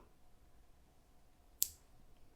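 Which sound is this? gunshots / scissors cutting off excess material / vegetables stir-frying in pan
scissors cutting off excess material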